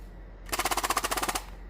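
Nerf Magstrike blaster fired one-handed, emptying a full magazine of darts in a rapid burst of about fifteen sharp, evenly spaced pops lasting under a second, close and loud.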